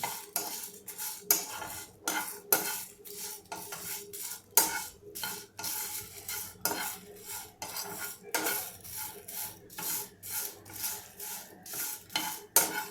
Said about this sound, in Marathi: आता हे थोडंसं लाल होईस्तोवर आपण भाजून घेऊ